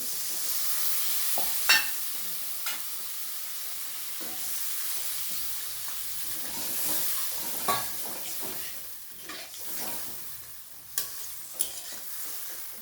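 Water hits hot fried spices for a doi katla curry, a steady sizzling hiss with occasional sharper spits and pops as the pan bubbles and simmers, close and alone without talk.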